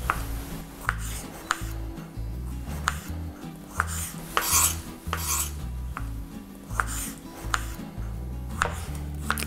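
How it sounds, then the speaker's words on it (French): Knife dicing a tomato into small cubes on a cutting board for a salad: a steady run of sharp, close chops with a few louder knocks, alone without talk over moderate background music. "on va prendre notre couteau et on va faire des petits cubes qui nous serviront pour notre salade tout à l'heure"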